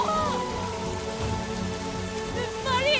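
Heavy rain pours steadily onto a surface, a dense, continuous hiss and patter that stays close and even for the whole stretch with no voices.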